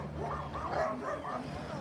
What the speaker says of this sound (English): these dogs, I don't know what it is.